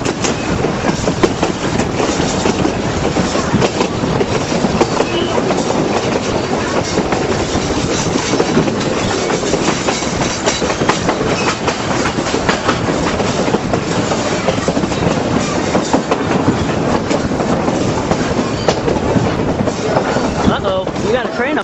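A train on the Durango and Silverton railroad rolls steadily along the rails, a loud continuous rumble and clatter that holds at the same level for the whole stretch.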